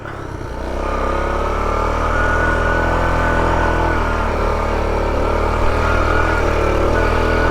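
A 1984 Honda Trail 110 motorcycle engine drones steadily in low gear on a trail hill climb, a loud, continuous buzzing rumble held close throughout.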